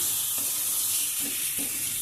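Spice paste and tomato cook in oil in a wok with a steady sizzling hiss, broken by a few soft scraping stirs at close range and no voices.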